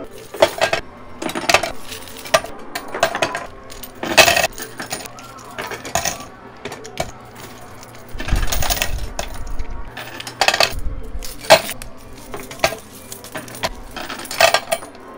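Quarters from a high-stakes coin pusher machine clatter and jingle in repeated bursts of metallic clinks and cascades, loud and close, with short quiet gaps between drops.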